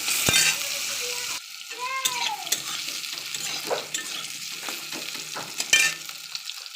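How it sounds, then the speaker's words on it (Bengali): Eggplant slices frying in hot oil in a home kitchen, a steady soft sizzle broken by spatula stirring and light clinks of the pan, close and fairly quiet. "বেগুন ভাজতে দিয়েছি"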